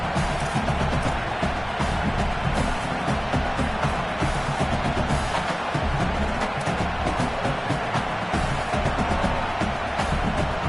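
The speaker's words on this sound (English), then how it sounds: "this crowd trying to give its defense some energy in a clutch spot" A large football stadium crowd at an OU vs Texas Tech game roars and cheers in a constant, dense wall of noise as it tries to energize the defense in a clutch moment.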